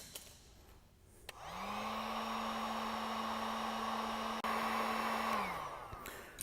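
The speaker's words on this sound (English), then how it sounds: "we're going to use the supplied shrink tube and our trusty heat gun again, and we're going to make sure this is sealed up" A heat gun blasts steadily for several seconds, a loud close whooshing roar with a whine, shrinking heat-shrink tube over a crimped wire during a Holley EFI ECU wiring install, then cuts off and spins down.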